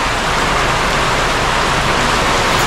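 Heavy rain from Typhoon Christine pours down in a loud, dense, unbroken hiss that fills the whole stretch, with no voices over it.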